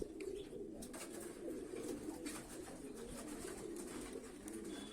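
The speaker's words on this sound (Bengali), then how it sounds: "এই যে কবুতর খাবার জারতেছে" Pigeons cooing softly at a distance, with faint chirps and rustling as one flicks and shakes its food, during late-summer hot weather, no talk.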